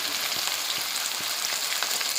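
Jujube berries fry in a pan over low flame with a dense, steady sizzle and a few soft stirring bumps underneath.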